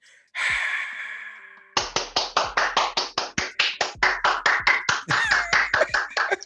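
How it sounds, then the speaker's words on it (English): A single person clapping hands in a studio talk setting, about twenty sharp evenly spaced claps in a steady rhythm, close and loud, preceded by a breathy exhale. "I might never stop clapping."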